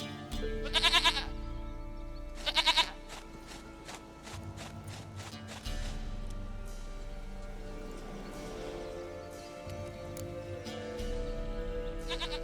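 A goat in The Witcher 3 gives two short, wavering bleats near the start, close and clear, followed by a low ambient drone and faint game background sounds.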